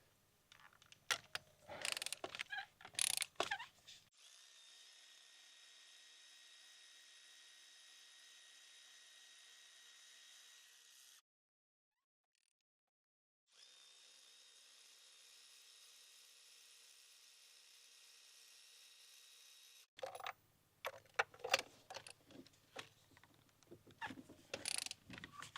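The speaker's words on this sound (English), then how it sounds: "now we can remove the spark plugs" Tools working on spark plugs in a 2015–2023 Ford Mustang S550 EcoBoost engine: bursts of clicking ratchet and metal handling at the start and end, separated by a long steady hiss with a brief silent gap.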